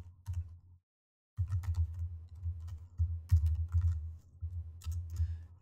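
Rapid keystrokes clatter on a computer keyboard as code is typed, close and moderately loud in quick bursts broken by a short pause near the start.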